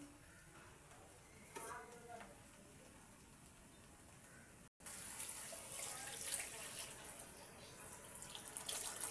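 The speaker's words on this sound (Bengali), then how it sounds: "একদম পানি দিয়ে দিচ্ছি আমি এখন।" Water is poured into a pot of braised meat being made into soft khichuri, a rushing, splashing stream starting midway and continuing to the end after quieter kitchen sounds.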